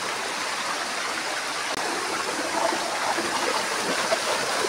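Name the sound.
waterfall water rushing down the mountain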